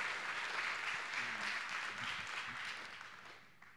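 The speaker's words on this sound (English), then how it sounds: "one more round of applause for Vitalik" An audience at a conference talk claps in a steady, moderately distant round of applause that fades slightly toward the end.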